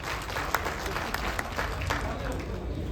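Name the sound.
audience applause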